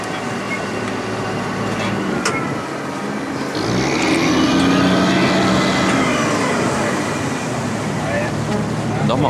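Engine of an amphibious vehicle running out on a glacier lake as it throttles back, a steady broad drone with a shift in tone about halfway through and constant background wash.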